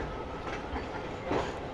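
The Karakoram Express rumbles steadily with a faint clatter of wagons as it approaches Hyderabad Junction railway station, heard from on board.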